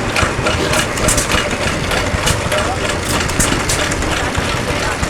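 Antique 1922 hit and miss engine, a 1 3/4 horsepower Associated Manufacturers model from Waterloo, Iowa, running steadily with a dense, continuous chugging rumble at close range.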